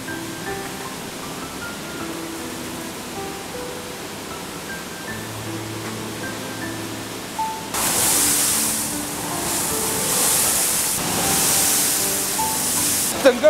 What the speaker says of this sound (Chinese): 这个滚筒一次就能洗1吨，这一桶就要洗1个多小时，而且是用流动的清水不停地清洗。